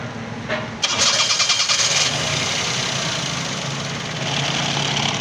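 A 2012 Toyota Vitz with a misfiring engine being cranked on its self-starter: a brief whirring crank, then the engine catches and settles into a steady, close idle, with a slight rise in revs near the end.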